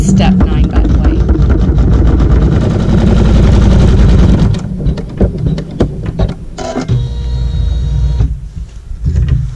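Embroidery machine sewing a tack-down stitch with neutral thread on a quilt block, loud rapid mechanical needle clatter that drops to a lighter, intermittent rattle partway through, no talking.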